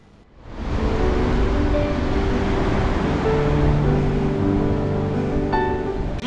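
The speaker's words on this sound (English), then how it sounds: "this is one of the untouched beaches of the state." Waves roll onto secluded, uncrowded Mattu Beach near Udupi in Karnataka, a broad steady surf wash that rises quickly and then holds at a loud, constant level with no voices.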